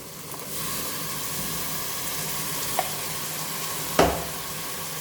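A paste of ground tomato, green chili and onion sautés in a pan for chicken biryani, a steady soft sizzle with a sharper stir or scrape near the end, close and alone.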